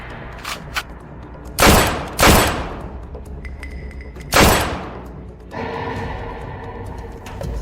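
Gunfire in a dramatized fight scene, a few loud sharp bursts of shots spaced a second or two apart over a rumbling background, near and forceful.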